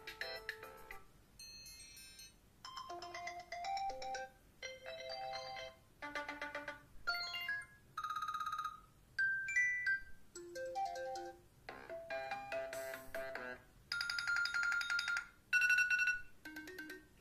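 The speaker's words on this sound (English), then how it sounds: "And this is, of course, ringtones just for iOS 7." A run of iOS 7 iPhone ringtones, one short melodic chime pattern after another, each a bright synthetic tone sequence separated by brief gaps, played alone and clearly with no talking.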